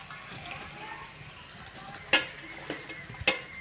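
Large chopped green chilies fry in a pan with a soft, steady sizzle, broken by a few sharp pops and stirring clicks near the end. Low talking runs faintly underneath.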